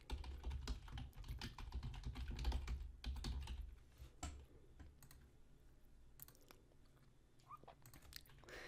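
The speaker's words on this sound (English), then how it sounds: "I'm going to put the email address that I just placed." Rapid keystrokes on a computer keyboard as an email address is typed, a dense run of clicks at first, then thinning to scattered taps, close and clear with no talk.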